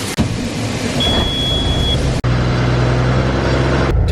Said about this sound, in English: Yeah, I'm dumping the truck right now.